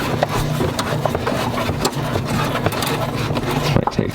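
Coilover shock on an FRS being turned by hand on its threads, giving a close, steady scraping and rubbing with a low hum running underneath.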